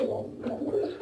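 A ten-year-old white pigeon in a nest box in a loft gives low, soft cooing with a throaty rolling rhythm, faint and close.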